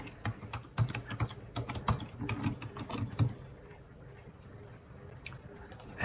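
Fingers type on a computer keyboard while entering login details, giving a quick, uneven run of soft clicks and taps that thins out toward the end, fairly quiet and close, with no talk.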